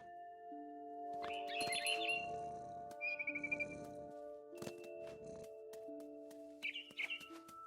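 In the video game What Remains of Edith Finch, a mama bird perched in a big tree gives several short, bright bursts of chirping and trills over steady tonal background music.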